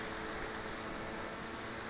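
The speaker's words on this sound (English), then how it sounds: "So you have visual as the plane is taking off." An FPV Skywalker model plane takes off. A faint, steady whirring motor hiss blends with wind noise and holds level throughout, with no voices.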